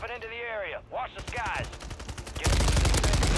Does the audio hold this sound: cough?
no